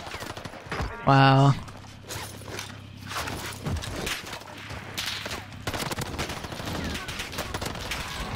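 Gunfire in the Warzone video game: a short loud burst of rapid automatic shots, followed by softer clatter, mechanical clicks and distant pops, with voices talking over it.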